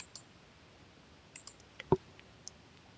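A few sparse computer mouse clicks on a Windows PC during disk cleanup: faint ticks in a quiet room, with one sharper, louder click near the middle.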